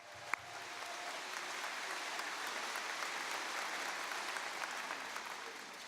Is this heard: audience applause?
yes